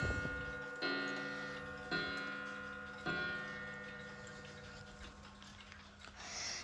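An old, heavy, off-brand mantel clock ticks indoors: a few sharp, evenly spaced beats, each leaving a ringing metallic resonance that fades before the next, with no talking.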